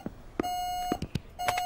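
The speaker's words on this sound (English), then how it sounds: "It's your smoke alarm, Dilys." A smoke alarm's short low-battery beep sounds a few times at intervals over a quiet background with soft bumps, a steady high tone between the chirps.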